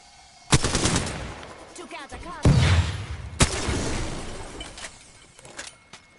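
Video game gunfire aimed at a flying cargo bot, several loud bursts of rapid shots separated by short pauses, with reverberant tails and some game background sound.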